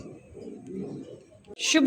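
A soft, low coo from a fancy Mundian pigeon hums for over a second, then a voice abruptly starts talking over it.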